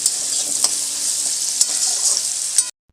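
Potatoes frying in a pan, a loud, dense, steady sizzle with a few sharp ticks of stirring, close up and without speech, cutting off briefly to silence near the end.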